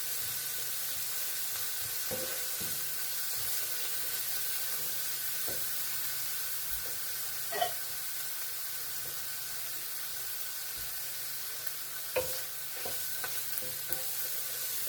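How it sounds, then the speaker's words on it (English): Garlic and dandelion greens fry in a pan with a constant, even sizzle, with occasional soft clicks and scrapes of stirring; no talking. "Garlic's browning up nice."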